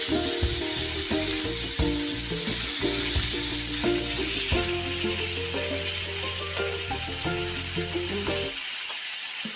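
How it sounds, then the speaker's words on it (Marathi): Garlic and ginger paste sizzles hard in hot oil for a bitter gourd curry, a loud, steady crackling fry with faint stirring scrapes, ending abruptly near the close. "तर ही तळून घ्यायची पाहिजे तेलामध्ये."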